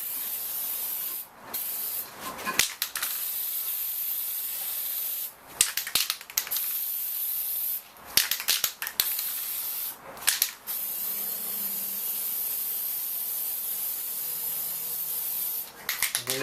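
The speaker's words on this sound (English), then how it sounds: "we're going to paint top coat over it" Spray paint hisses from an aerosol can in several bursts as a light top coat goes onto a chrome Toyota Tundra grill surround, with short quiet gaps between passes and no talking.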